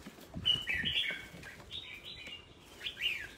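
Young chicken chicks chirping, several thin, high peeps over a soft rustling background, moderately close and fairly quiet, with no voices.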